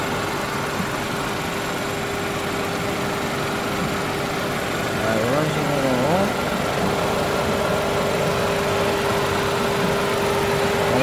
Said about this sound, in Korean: 엔진 사운드는 괜찮은 것 같습니다.